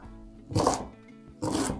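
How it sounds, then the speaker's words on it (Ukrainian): Two sharp chopping thuds of a knife cutting cabbage on a board, close by, about a second apart. "Тим часом нашиткую капусту. І ще нарізаю дрібненько."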